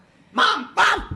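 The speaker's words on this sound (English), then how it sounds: "Oh no, that's a dog." A dog gives two loud, close barks in quick succession, each one sharp and full, with a short gap between them and a voice briefly calling out at the end.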